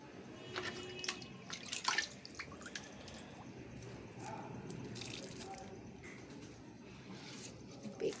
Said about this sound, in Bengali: একটু একটু করে জল দিয়ে দিই